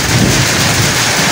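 Thunder rumbles low and close beneath a loud, steady roar of heavy village rain in a brief stormy moment, with no voices.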